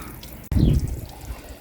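Water flushes through a garden hose pipe attached to one end of a pipe to clean a blocked hole, starting abruptly after a brief click and rushing steadily at close range.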